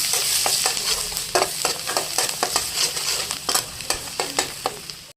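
Ginger and garlic sizzle in a pan with browning onion as a spoon scrapes and stirs, producing a continuous frying hiss broken by repeated sharp, close stirring clacks at an uneven rhythm, with no voices.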